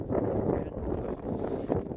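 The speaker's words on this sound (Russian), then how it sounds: "Ветерок задул такой хорошенький." Gusty, cold wind buffets the microphone in uneven low rushes beside a lake on the Kuloy River, a dull breathy roar rising and falling over two seconds.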